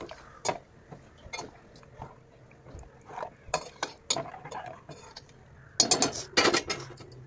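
A utensil scrapes and clinks irregularly against a metal pot of curry, stirring in uneven strokes, growing busier and louder toward the end.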